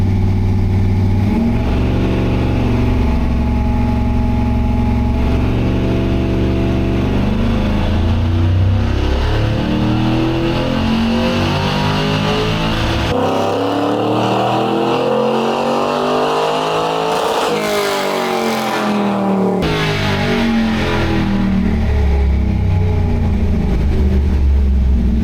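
An LS3 V8 in a Chevrolet C10 pulls hard through rising revs, touching the rev limiter, then drops back and climbs again, a loud close engine roar alone without voices.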